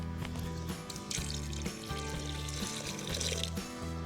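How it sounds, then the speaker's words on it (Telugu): Water poured into a large pot of crab biryani during cooking, a steady continuous pour with splashing for about four seconds, close and moderately loud, with no talking. "ఇప్పుడు మనం గ్లాస్ రైస్ వేసుకుంటే దానికి గ్లాసున్నర వాటర్ వేసుకోవాలి."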